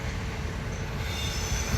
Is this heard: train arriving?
yes